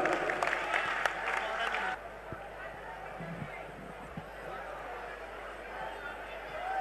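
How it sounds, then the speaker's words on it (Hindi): An audience at a Hindi comic poetry recital bursts into loud applause that stops abruptly after about two seconds. Quieter murmuring and a speaking voice follow. "जोरदार तालियां दी।"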